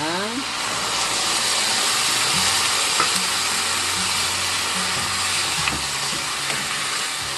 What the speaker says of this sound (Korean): 간이 맛이 스며들기 시작하면 다시마 물 한 컵입니다. 이걸 넣겠습니다.